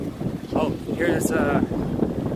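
Wind gusts buffet the microphone on an evening street downtown, a constant low roar that stays loud throughout, with a voice speaking over it.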